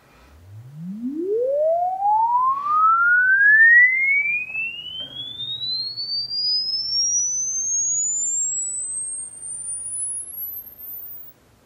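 A Bose Wave Radio AWRCC1 under repair plays a crossover sweep test tone on one channel, a loud pure tone gliding smoothly upward from deep bass to about 15,000 Hz over roughly ten seconds before stopping.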